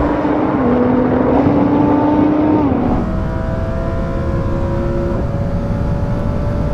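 Lamborghini Huracan, Audi R8 and Nissan GT-R launching in a drag race, with loud sustained engine roar, a pitch rising then dropping at a gear change and climbing again, heard close and continuous.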